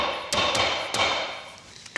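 Hammer blows on a Jeep split-rim wheel during a roadside tyre change, a few sharp metallic strikes spaced irregularly, fairly close and moderately loud with a fainter tap at the end.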